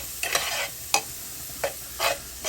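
Onion and garlic sautéing in a pan for ginisang sayote, a constant close sizzle broken by a few spatula scrapes and stirs.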